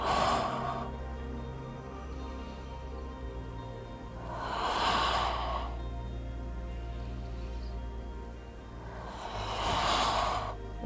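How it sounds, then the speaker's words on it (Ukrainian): Slow, deep breaths taken during a Pilates exercise, three long breathy hisses spaced a few seconds apart over a steady low background hum. "Спокійно дихаємо, але максимальна амплітуда."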